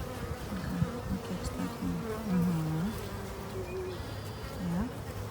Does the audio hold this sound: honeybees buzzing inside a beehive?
yes